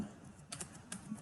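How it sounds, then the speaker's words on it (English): Keys on a computer keyboard are tapped in quick light clicks, a few small clusters of keystrokes heard faintly and close up in a quiet room. "Right, you type your names."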